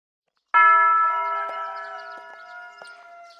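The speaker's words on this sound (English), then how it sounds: "The bells rang clearly, carrying across the valley the start of Sunday service." A church bell rings out for Sunday service across a valley, struck loudly once and then left to hum and slowly fade, with fainter strikes following and a fresh strike at the very end.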